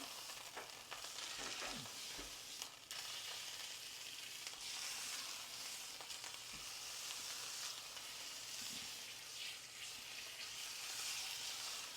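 A Sainsbury's beef silverside joint searing in a very hot pan gives off a continuous fierce sizzle and hiss, with a few faint bumps and shifts of the meat underneath.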